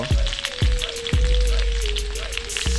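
Cut green chilies go into a sizzling pan of cauliflower and rohu fish curry, producing a steady close frying hiss with several dull knocks from stirring or spoon taps and a faint low hum beneath.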